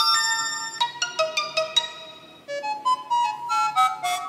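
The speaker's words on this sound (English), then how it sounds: "notification ringtone." Sony tablet notification ringtones playing in sequence, a series of short bright chimes and melodic tones at close range, several distinct sounds with brief gaps between them.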